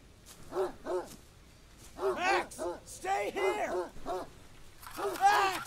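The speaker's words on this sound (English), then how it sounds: "That was my dog." Dog barking in the alien-invasion video game Greyhill Incident, a series of short, bark-like bursts in uneven clusters across the clip, moderately loud and fairly close.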